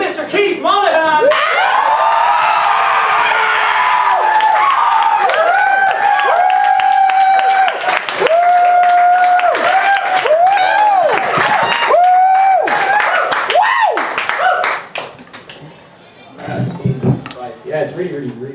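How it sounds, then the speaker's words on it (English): Comedy club audience applauds and whoops as a stand-up comedian takes the stage, loud continuous clapping and cheering for well over ten seconds, tapering off near the end as the performer starts talking. "God, yeah, thanks for the applause."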